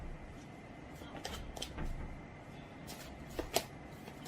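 Tarot cards being shuffled and handled at close range, with soft riffling and sliding bursts, a few sharper taps and flicks near the end, fairly quiet over background hiss.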